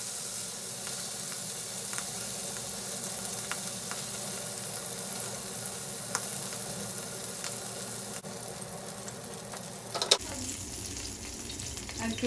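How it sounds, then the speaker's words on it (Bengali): Shrimp frying in hot oil in a pan, giving a steady, dense sizzle throughout with small crackles and pops, close and fairly loud, ending in a brief louder burst. "ঠিক একই তেলে চিংড়ি মাছগুলো একটু ভেজে নিচ্ছি।"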